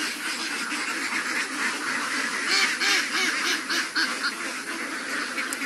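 A crowd of ducks on a two-bigha duck farm quacks continuously, a dense, overlapping chorus of nasal calls, loud and close throughout.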